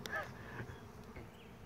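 A large bee buzzes briefly near a Warré top-bar beehive during its install, a faint, close hum over quiet outdoor background.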